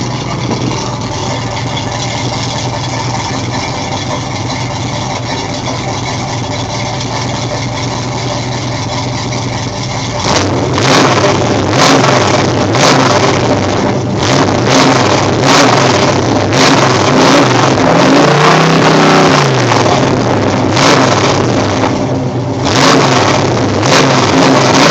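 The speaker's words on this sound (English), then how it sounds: "And here's the sound of the new exhaust." A car with a new exhaust idles with a steady, even drone, then is revved repeatedly in sharp, loud blips that rise and fall over the idle.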